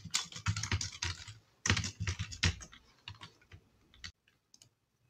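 Quick typing on a computer keyboard, bursts of close, crisp key clicks with short pauses, trailing off into a few isolated taps.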